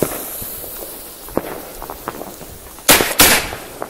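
New Year's Eve firecrackers: a few faint pops and clicks, then two sharp, loud bangs in quick succession near the end, with nobody speaking.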